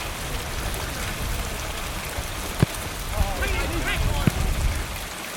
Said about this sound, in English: There are 100 clouds to spoil the view because it's raining.